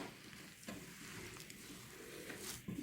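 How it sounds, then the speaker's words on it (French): Spoon stirring a thick no-bake cake mixture with sweetened condensed milk in a bowl, a soft continuous scraping and squelching close by, with a few sharper clicks against the bowl near the end. "Et je mélange bien le tout."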